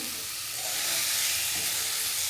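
Fish pieces frying in a pan for a raw fish curry, a steady close, loud sizzle with broad hiss that swells slightly after the pieces go in and holds on without speech.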